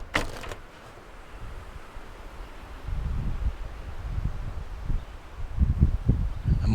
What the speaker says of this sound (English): Oh, it's starting to get windy out there.